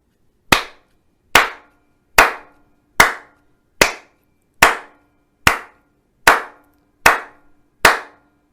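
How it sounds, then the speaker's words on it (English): Bare hands clapping a steady beat, ten crisp, evenly spaced claps about 0.8 seconds apart, close and loud with short decays and quiet between each one. "I'm going to demonstrate a steady beat by clapping my hands"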